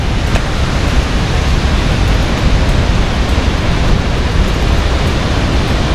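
At Bhimkund, a powerful river current gives off a loud, unbroken roar of rushing water that stays constant from start to finish, close by, with no voices.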